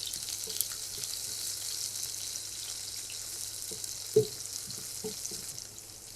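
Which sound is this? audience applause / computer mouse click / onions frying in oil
onions frying in oil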